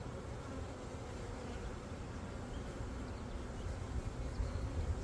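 Honeybees buzz steadily around a hive, a dense, continuous hum that stays fairly constant and close throughout, with no talking.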